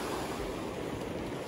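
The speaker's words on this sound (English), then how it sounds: "I love the sound of crashing waves rolling in." Ocean waves crash and roll in as a steady, broad surf wash with wind mixed in, heard alone and fairly faint for a brief moment.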